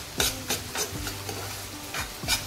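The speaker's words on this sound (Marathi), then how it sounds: "कांदा आपल्याला आणखी थोडा शिजवून घ्यायचा आहे।" Finely chopped onions fry in a pan for a bombil masala, with a soft steady sizzle broken by several close scraping stirs of a spoon at irregular intervals.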